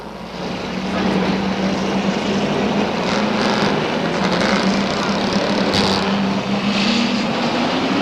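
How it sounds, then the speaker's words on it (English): Pro Stock race cars at Seekonk Speedway in 1992 roar off turn four, a loud, dense, continuous engine drone with a steady low tone throughout, and a commentator's voice speaking over it. "Mark Labonte on the throttle as they come off turn 4."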